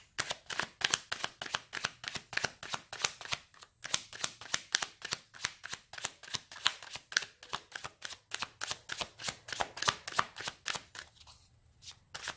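Tarot cards being shuffled by hand, a steady run of quick crisp riffling slaps repeating for several seconds, close and clear, with no talking.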